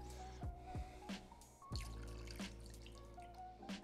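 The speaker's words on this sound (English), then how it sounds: "then we're going to pour over some milk" Milk pours over smoked haddock in a pan, a faint liquid trickle with soft drips and splashes sounding close and quiet throughout.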